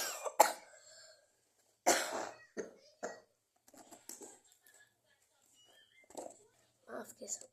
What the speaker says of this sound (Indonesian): Maaf guys, aku batuk.